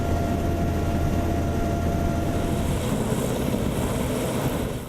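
A Sea King helicopter flies in a circle over the British aircraft carrier HMS Illustrious, its rotor and engine making a loud, steady, unbroken roar throughout, with no voices heard.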